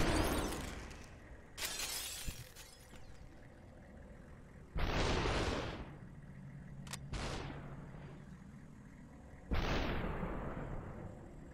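Glass enemies shatter in the Superhot video game, four loud, bright bursts of breaking glass spaced a few seconds apart, each a sudden crash that fades into tinkling debris over quiet gaps.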